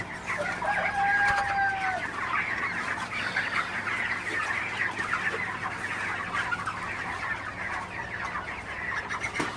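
Broiler chickens in a poultry shed, several birds clucking and calling continuously at moderate distance, with a rooster-like crow early on over a steady background hum.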